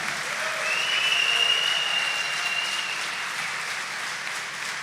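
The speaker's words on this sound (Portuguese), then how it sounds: "Agradeça com a salva de palmas." A church congregation claps together during an Advent Sunday Mass, producing a sustained, even wash of applause with a faint voice underneath.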